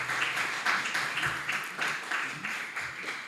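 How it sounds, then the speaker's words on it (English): Applause from a conference panel audience for the presenters, a steady wash of many hands clapping at moderate distance, with a faint voice underneath. "Can we give another round of applause to all these presenters?"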